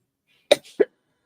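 A person with a cold gives two short, close coughs about a quarter second apart, with a faint breathy sound between them, and then goes quiet.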